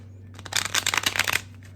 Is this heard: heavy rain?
no